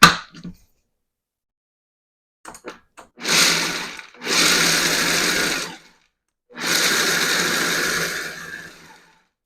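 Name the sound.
food processor pulsing peanuts for peanut butter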